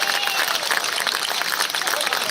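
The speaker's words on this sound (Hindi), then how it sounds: "बस सारा सदन एक बार तालियां बजाइए।" A legislative assembly hall full of members applauding together, a dense, steady wash of clapping that stays loud and even from start to finish, with crowd noise mixed in.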